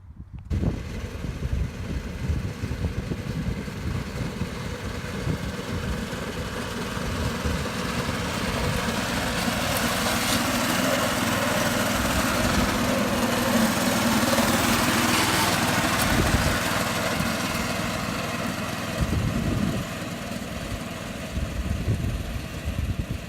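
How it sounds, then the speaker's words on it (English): An old Scott Bonner lawn mower, roughly 30 or 40 years old and worn, runs steadily outdoors with a continuous buzzing engine drone that swells slightly midway and holds for over twenty seconds without speech. "It's an old Scott Bonner. Good mower in its day, but well past its prime."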